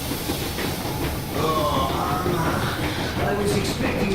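The Yermak train in Metro Exodus rolls steadily on rails, a dense continuous rumble and clatter with hissing, while voices talk briefly over it.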